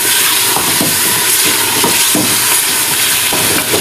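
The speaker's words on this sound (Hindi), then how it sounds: "लहसुन, तेल और हल्दी इनके साथ में बुनाई कर रहा हूँ" Mutton sizzling and frying in hot oil with garlic and turmeric, a steady dense hiss with occasional stirring clatters, close and fairly loud, no voices.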